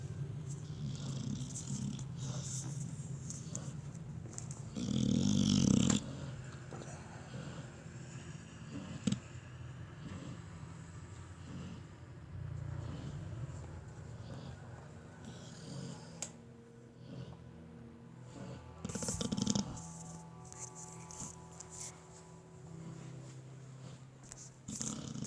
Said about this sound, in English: This is what happens when my dog snores.